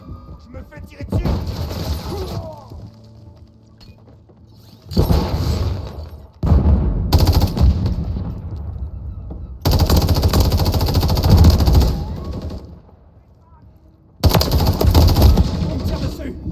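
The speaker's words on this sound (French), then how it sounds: "Je me fais tirer dessus." Loud bursts of automatic gunfire in Call of Duty Modern Warfare III, heavy rattling volleys broken by short quieter gaps, with a voice speaking at the start.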